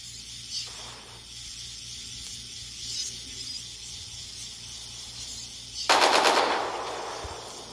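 Gunfire in a video game tournament match: quiet hissy ambience, then a sudden loud burst of rapid shots that trails off into a fading rattle, with no voices.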